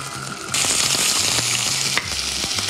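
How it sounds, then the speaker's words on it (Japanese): Loud, close sizzling as chicken hits hot oil in a pot over high heat, the crackle jumping up suddenly and continuing as a steady hiss with light scraping stirs. "鶏肉を入れます。"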